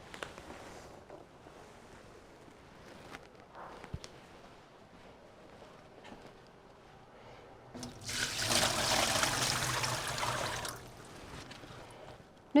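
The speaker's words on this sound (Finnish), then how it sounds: "tämä vesi, mikä meillä on tässä astiassa, niin kaadetaan ihan viemäriin" Water from a container is poured into a drain during cleaning of ironing stations, a loud rushing splash for a few seconds after quiet handling noises, then stopping.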